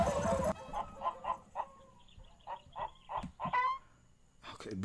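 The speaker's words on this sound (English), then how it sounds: "is that a chicken?" Clucking and honking fowl calls from the Beatles' Sgt. Pepper recording, a string of short repeated squawks in an uneven rhythm, fairly close and clear, with a brief burst of other sound at the start.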